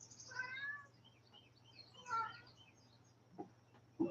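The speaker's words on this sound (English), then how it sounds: "Anyone want a cat?" A cat meows softly twice, quiet and somewhat distant, over a low steady hum, with a faint short chirp or squeak near the end.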